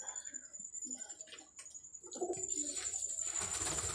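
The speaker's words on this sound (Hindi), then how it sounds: "तो ये जो आप ये कलसरे कबूतर देख रहे हो ना" Soft pigeon coos among chirps and rustling, with a steady high-pitched whine running through; a louder burst of activity builds in the second half.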